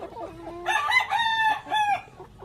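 Four-month-old egg-laying hens cluck and call close by in a short burst of rising squawks, clear and fairly loud with no talk.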